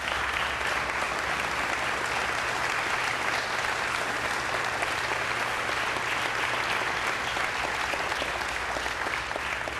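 Audience applause greeting a performer born without arms as he is welcomed to the stage at a charity event, a steady dense roar of clapping that holds at full strength throughout with no talk over it.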